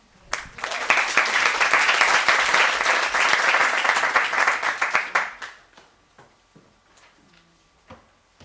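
Enthusiastic audience applause at a university research presentation final, loud and dense for about five seconds, then thinning to a few scattered claps and quiet room noise.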